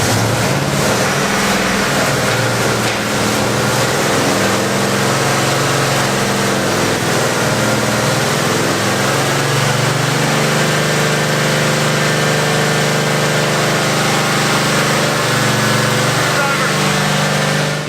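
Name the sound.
Oldsmobile 442 engine running during cam break-in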